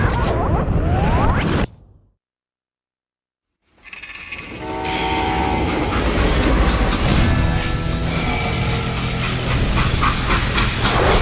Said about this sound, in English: They hopped a freight train having heard there was a big payroll in the express safe.